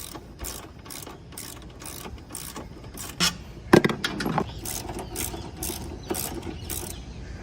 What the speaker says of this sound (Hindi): एक मेरा एक्टिवा का जो बोल्ट है उसको खोल के दिखा देता हूँ आपको